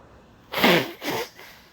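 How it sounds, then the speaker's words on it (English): Person blowing their nose in two quick bursts, a loud forceful honk followed by a shorter, softer one, close and otherwise quiet. "Excuse me, I got to blow my nose."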